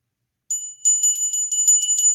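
A ceremonial bell rings during a spiritual invocation, struck rapidly and repeatedly with a bright, sustained metallic tone, loud and close, starting after a brief silence.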